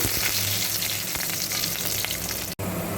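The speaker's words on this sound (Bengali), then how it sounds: "রসুন আর দুটো কাঁচা লঙ্কা দিয়ে হালকা একটু ভেজে নেব" Garlic and two green chillies fry with black cumin in hot oil for a shrimp bharta, giving a dense, steady, close sizzle with a brief dropout near the end.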